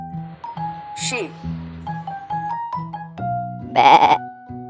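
Sheep bleating on a farm mixed with a sequence of tonal musical notes and a short chime; one loud wavering bleat stands out near the end, up close.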